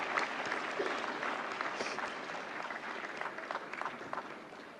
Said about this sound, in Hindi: जोरदार तालियों से स्वागत करें गंगूबाई काठियावाड़ी की टीम का।